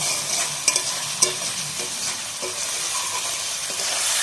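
Rice stir-fried in a pan for a Bengali fish-head muri ghonto with katla, a continuous loud sizzle and hiss with occasional scraping knocks of a spatula against the metal.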